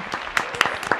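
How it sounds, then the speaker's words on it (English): Short burst of applause played as a sound effect from a soundboard on a live call-in show, a quick patter of claps, close and fairly loud, with no talking. "Birthday clap."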